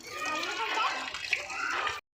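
Water gushing steadily from a newly repaired village hand pump, a continuous close splashing flow that holds for about two seconds and then stops abruptly.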